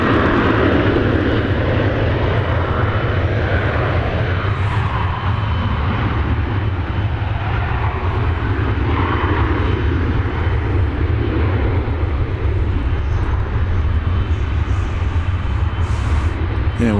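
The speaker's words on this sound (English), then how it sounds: "There's the A300 we talked about." An Airbus A300 jet at Dallas Fort Worth airport, its engines giving a loud, sustained roar that swells and eases slowly through the whole stretch.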